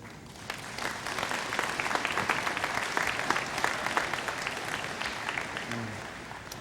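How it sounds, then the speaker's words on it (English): Steady applause from a graduation ceremony crowd at Salish Kootenai College, a tribal college, fills the room with dense, continuous clapping that holds at an even level throughout, with no voices standing out. "Graduates, please give your friends and family a round of applause for appreciation."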